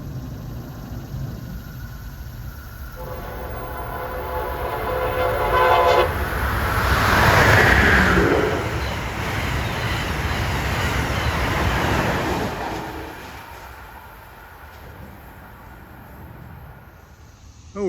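Amtrak train 174, Newport News to Boston, roars past at speed: a rumble swells, a horn blares at its peak and the clatter fades away alone.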